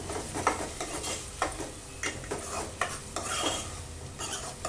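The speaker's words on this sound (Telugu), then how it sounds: "ఒకసారి అయితే కలుపుతున్నాను" Ladle stirring onions with a torn bay leaf in a pot for chicken curry, a soft sizzle broken by repeated scraping and clinking strokes against the metal at an uneven rhythm, without voices.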